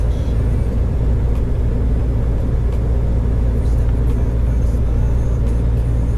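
A DAF truck cruises along a road on a foggy early morning, seemingly heard from inside the cab. A loud, steady engine drone and road rumble continue without a break.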